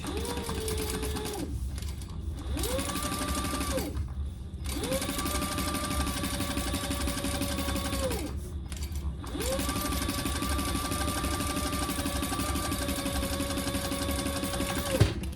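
A sewing machine stitches fabric for a triple-zip crossbody bag in several long steady runs of rapid mechanical whirring, stopping briefly between bursts, loud and close, with no talking.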